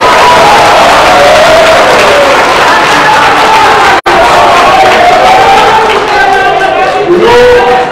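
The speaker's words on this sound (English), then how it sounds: "I permit you to clap." A political rally crowd in Edo North, Nigeria, roars and cheers loudly with whoops and shouting voices, clapping mixed into the dense, close, continuous crowd noise.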